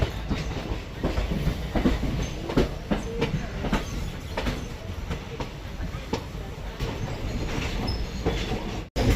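A passenger train runs on the rails along the Villupuram–Srirangam route of a Renigunta to Madurai journey. Its steady loud rumble is heard from on board, with repeated wheel clicks over rail joints throughout.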